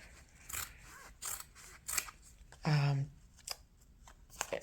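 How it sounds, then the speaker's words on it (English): Scissors snip through fabric in several crisp, separate cuts with quiet gaps between them, close up; a short burst of voice breaks in midway. "let me get my fabric scissors for this"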